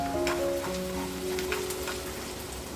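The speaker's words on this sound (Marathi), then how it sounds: "त्यामध्ये कांदा थोडासा परतून घ्यायचा" Onion sautés in oil for a spicy Kolhapuri chicken sukka with a steady, moderately loud sizzle and a few sharper pops, while sustained musical tones run underneath.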